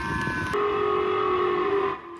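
A phone emergency alert for a North Korean missile launch over Japan sounds: a brief chirping beep pattern, then a sustained loud two-tone electronic whine that holds for over a second before cutting off.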